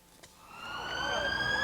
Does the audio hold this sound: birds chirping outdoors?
no